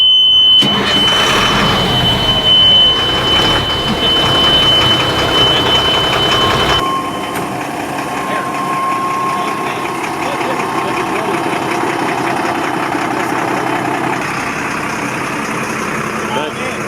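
A Humvee's heavy Cummins diesel engine, paired with a 7-speed Allison transmission, turns over and settles into a loud, rumbling idle, with a high electronic beep at first and voices talking nearby.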